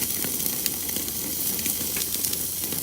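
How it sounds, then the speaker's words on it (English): Meat fat sizzles and spits steadily on an Otto Wilde high heat grill, a dense, close hiss with frequent small pops and crackles throughout. "and it's just rendering the fat and really"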